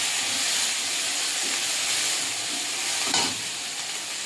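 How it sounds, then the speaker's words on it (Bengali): Spice paste with ginger and turmeric is sautéed in a pan, giving a steady close sizzle and hiss with a few soft stirring scrapes and one brief louder clatter near the end. "আদা, হলুদ দিয়ে দেবো, দিয়ে ভালো করে মশলাটা কষিয়ে দেবো।"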